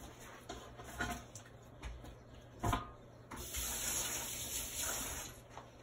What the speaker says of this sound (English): So I'm going to put this into my water bath and get this going so that I can get that washed off.